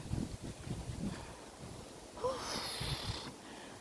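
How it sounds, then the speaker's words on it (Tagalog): Strong wind gusts across a hiking trail near a bridge, rumbling and buffeting the microphone in low pulses, with a brief higher whoosh later; moderately faint overall. "Sobrang hangin. Hangin siya."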